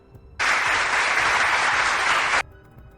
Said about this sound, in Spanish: Déjame darle un aplauso a Bukele.